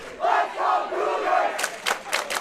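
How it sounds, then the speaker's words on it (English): Elkhart Lake Cougar fans at a Wisconsin high school bowling championship chant in loud unison, a few drawn-out rhythmic calls followed by sharp, evenly spaced claps or stomps in a reverberant alley. "The Cougar chants. Elkhart Lake cheering on their squad"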